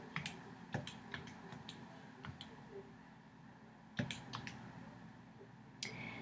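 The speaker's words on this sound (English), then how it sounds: "I'm going to type in standard form. And then I'm going to type in vertex form." Keys are pressed on a graphing calculator while entering equations, producing faint, sparse, irregular clicks over a quiet room hum.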